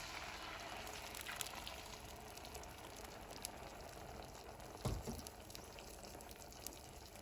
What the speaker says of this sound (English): I have a skillet right here preheated with 1 tablespoon of oil. So what we're going to do is go ahead and add our sauce.